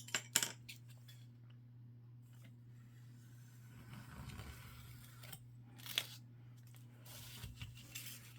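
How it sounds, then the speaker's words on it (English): Scissors cut paper flaps off a small journal: a few sharp, close snips and rustles spread across a quiet room with a steady low hum, and no talking. "So I'm going to cut that off."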